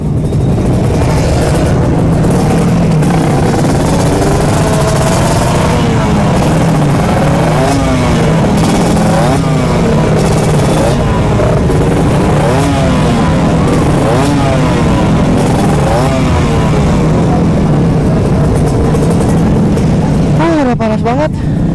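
Motorcycle engines, including Harleys and Honda Sonics, rev repeatedly in loud, rising bursts over a constant rumble at a Sunday morning group ride, with crowd chatter and talking mixed underneath.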